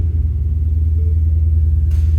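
The V8 of a 2010 Ford Mustang GT idles with a steady, deep rumble at close range, a low throbbing drone that holds constant throughout.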